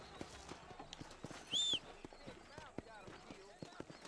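Horse hooves clip-clop in the Red Dead Redemption video game, a steady rhythm of soft hoofbeats at low level, with a short whistle-like tone partway through.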